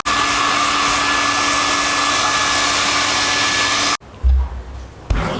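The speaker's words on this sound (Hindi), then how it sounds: "अब हेयर ड्रायर है, ये हेयर ड्रायर से जल्दी से इसको हीट करते हैं" A hair dryer blows loud and close in a steady whine for about four seconds while heating a motorcycle helmet chin mount, then cuts off, followed by a few soft handling thumps.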